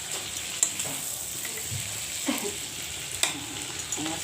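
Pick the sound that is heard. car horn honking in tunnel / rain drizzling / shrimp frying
shrimp frying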